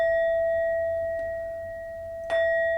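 Ringing chimes hold a steady sustained tone while a soft strike lands partway through and a clearer, brighter strike follows near the end, close and unaccompanied by talk.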